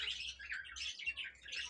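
Several small birds chirp and tweet at a home bird farm that keeps pigeons, with bright overlapping calls repeating steadily and close by, and no voices heard.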